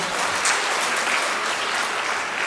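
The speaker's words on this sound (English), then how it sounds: "Big round of applause for them again." Audience applauding young postgraduate student performers at a foundation day celebration, a steady dense wash of clapping that holds at an even level throughout, no voices on top.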